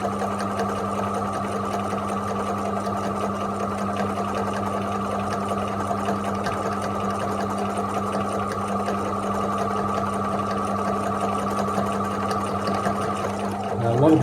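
A sewing machine runs steadily and close by for free motion machine embroidery, holding an even, continuous whirring hum for the whole stretch with no pauses.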